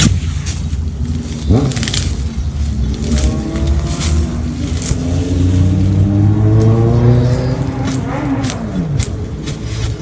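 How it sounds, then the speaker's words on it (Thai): A motorcycle engine revs loudly and steadily from below on a mountainside in Japan, its pitch climbing and falling over several seconds, with rough background noise. "เสียงมอเตอร์ไซค์ข้างล่าง"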